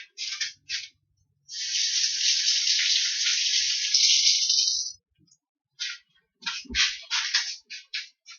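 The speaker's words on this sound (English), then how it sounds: "So I'm going to just wash my hand" A kitchen tap runs while hands are washed under it, first in short splashy bursts, then a steady stream for several seconds, then more choppy splashing as the hands move, close and fairly loud.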